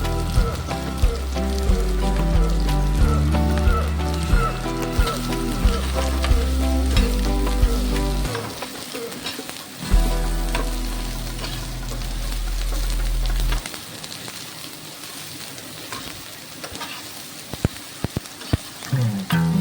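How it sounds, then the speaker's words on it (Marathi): Onions fry in a pan for a Gatari special chicken rassa, sizzling loudly and steadily up close with occasional stirring scrapes, while steady music plays underneath for the first half and no one speaks. "आता मी ह्यामध्ये कांदा भाजून घेणार आहे"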